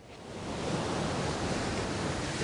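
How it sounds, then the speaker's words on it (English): Ocean surf heard as a steady, broad wash of breaking waves, loud and continuous with no voices, swelling slightly after the first half second and holding even throughout. "An ocean is a big body of water that's very salty."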